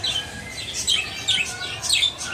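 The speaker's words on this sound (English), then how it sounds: "All right, we got budgerigar or budgie." Budgerigars, or parakeets, at a tourist attraction in Miami chirp and warble continuously in bright, overlapping tweets, close and lively, over a soft background murmur.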